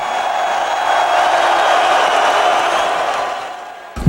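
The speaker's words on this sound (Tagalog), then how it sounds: "Dumagungdong ang hiyawan sa Staples Center sa Los Angeles, California" A large arena crowd at Staples Center in Los Angeles roars and cheers at a Floyd Mayweather Jr. and Conor McGregor face-off, a loud, sustained wash of noise ending in a sharp bump.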